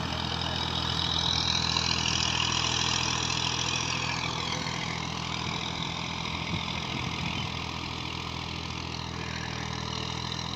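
A 2000-model Massey Ferguson MF 240 tractor engine runs continuously at a steady idle, a close, constant mechanical drone with a broad noisy hiss on top and no speech.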